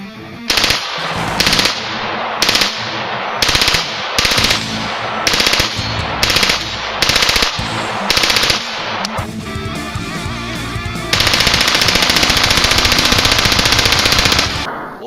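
An FN P90 fires repeated loud, close bursts of automatic fire separated by short pauses, ending in one long sustained burst.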